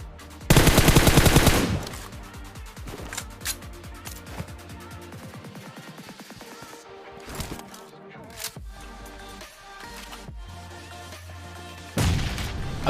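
Rapid automatic gunfire from an M4 rifle and DP light machine gun in a shooter video game, with dense bursts, a loud opening volley, scattered single shots and booms, and a heavy burst again at the end.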